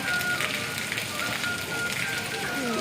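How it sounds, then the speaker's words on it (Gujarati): Steady rain falling continuously in Porbandar after an all-night downpour, a dense, even hiss that holds at a constant level for the whole stretch with no breaks. "વરસાદ કન્ટિન્યુ ચાલુ જ છે"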